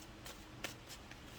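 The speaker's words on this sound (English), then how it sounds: "Let me just shuffle a little more." Tarot cards are shuffled by hand in a few quick, soft riffling bursts, close and fairly quiet, with no talking.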